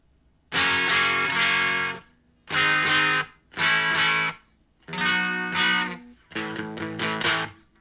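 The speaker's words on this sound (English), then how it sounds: "sometimes it sounds like there's too much distortion." A homemade Ruby guitar amplifier gives five distorted guitar phrases, each roughly a second long with short silences between, loud and close, with no talking.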